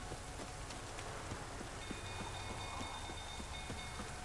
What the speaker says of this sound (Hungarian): De legalább esik az eső.